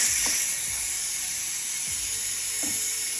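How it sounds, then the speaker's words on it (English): Steam hisses continuously and loudly from the pressure release valve of a Ninja Foodi. A few faint clicks and knocks sound underneath. "The steam is being released."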